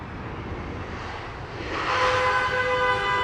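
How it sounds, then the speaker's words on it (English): Airplane landing on the northern runway at Heathrow Airport, a broad jet engine roar that swells louder midway with a whining tonal edge, heard alone over outdoor background noise. "Got planes landing,"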